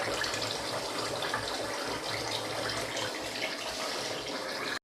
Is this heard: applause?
no